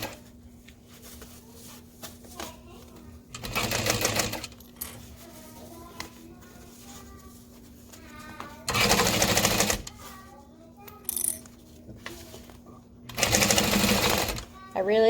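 A sewing machine stitches a backpack, running in three short, loud bursts of rapid whirring with quiet pauses between them, while a person speaks softly in the gaps.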